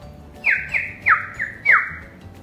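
Bird calls in a short series of five sharp, high squawking chirps, loud and close, spaced roughly evenly apart.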